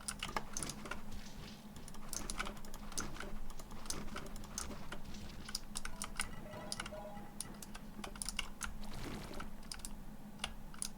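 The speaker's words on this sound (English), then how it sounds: "So there will be no more, hopefully, no more keyboard ASMR." Fast, continuous typing on a computer keyboard, close and fairly quiet, with dense clicking keystrokes over a low steady hum.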